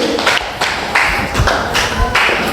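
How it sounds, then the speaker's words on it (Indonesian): In a chemistry classroom, a class applauds a student group. The clapping comes in several loud, uneven bursts with short gaps between them, close by, with no talking. "beri tepuk tangan untuk kelompok ini"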